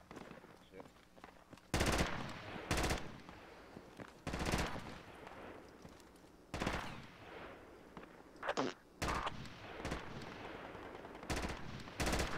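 Heavy machine gun fire in Project Reality on the snowy Dovre winter map: sustained loud bursts repeat every second or two, with fainter distant shots and game ambience between them.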